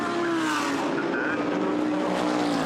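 GT race cars, Bentleys and McLarens among them, racing at Brands Hatch, with a steady loud engine drone and tonal whine throughout, suggesting cars passing close by.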